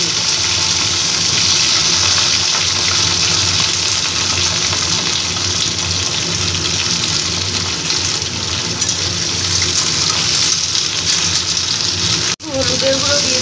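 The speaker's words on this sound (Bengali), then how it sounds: "এবার সিমগুলো একটু ভেজে নিই" Flat beans sizzle in hot mustard oil in a wok, a loud, steady broadband hiss and crackle that runs almost unbroken, with one brief dip near the end.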